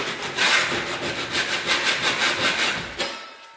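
A 6-inch drywall knife smooths joint compound on a wall in repeated rhythmic scraping strokes, close and fairly loud, ending with a brief pause.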